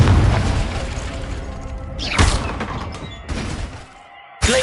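A fiery Confringo spell blast in Hogwarts Legacy on PS5, several sharp booming bursts breaking through dense, loud game sound, with one final sudden thump at the very end.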